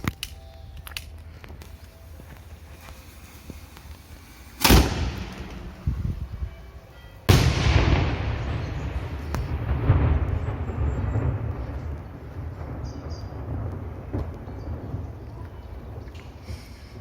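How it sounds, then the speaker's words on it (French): A single loud boom from the noon cannon fired daily in Nice cracks out, and a long rumbling echo rolls on after it, with a smaller sharp bang heard a few seconds earlier. "il est tiré tous les jours à midi"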